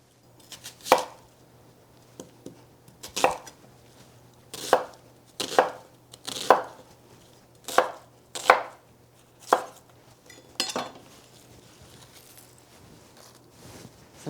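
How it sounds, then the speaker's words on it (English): A knife rough-chops an onion on a board in a series of about a dozen crisp, separate thuds, spaced unevenly and close up, with no talking. "Okay, so let's cut our onion."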